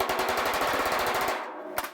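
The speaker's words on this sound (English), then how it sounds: "Let me grab a hammer." Rapid hammer blows on the steel cargo door panel of a 1964 VW double-door panel van, a dense run of sharp metallic strikes close up, ending in one last isolated hit.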